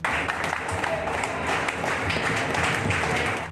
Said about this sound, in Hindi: वहां मौजूद पुलिस वालों और प्रशासन के अफसरों ने तालियां बजाईं